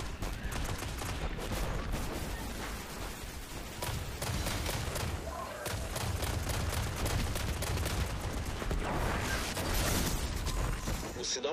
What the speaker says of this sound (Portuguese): Tiroteio.